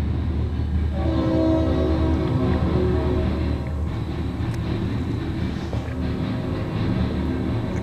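A Norfolk Southern locomotive on a southbound local train in Marion, Ohio, sounds its horn in a long, steady, loud blast over the low rumble of the moving train.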